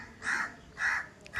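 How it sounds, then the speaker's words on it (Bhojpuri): A crow caws three times in a village setting, each call a harsh, loud burst with short pauses between, the third call cut off at the end. "कौआ बोला था लागत केहू आवे वाला बा।"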